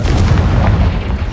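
A fire spell blast is cast in the Hogwarts Legacy video game, producing a loud, dense booming roar with a heavy low rumble that fills the whole moment.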